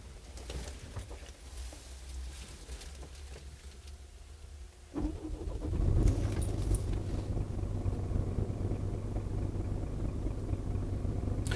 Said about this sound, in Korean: 제가 아마 시동을 한번 켜보도록 하겠습니다.